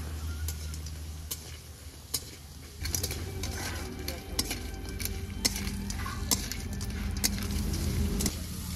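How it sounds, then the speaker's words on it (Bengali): Freshwater crabs from a wetland frying in a pan, giving a steady sizzle with scattered clicks and scraping knocks of stirring throughout. "কাঁকড়া তো ভালো করে ভেজে নিয়েছি"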